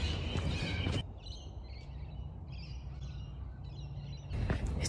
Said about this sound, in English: birds are so loud.